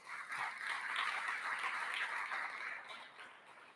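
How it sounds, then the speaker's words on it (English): An audience applauds at a regional pitch night competition: dense, steady clapping from a crowd holds at full strength for several seconds, then thins out slightly toward the end. "So I think they deserve another round of applause."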